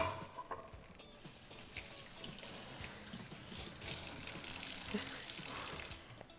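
Tap water running into a kitchen sink while hands are washed after handling raw egg, a steady close hiss of flowing water with small splashes throughout.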